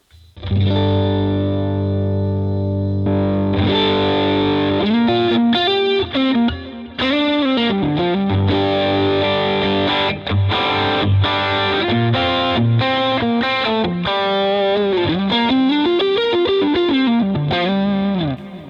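Electric guitar pushed through a Tube Screamer-style overdrive into a Vox-style amplifier plays sustained distorted chords, then moves into busy, rhythmic riffing with bent and sliding notes, loud and unaccompanied.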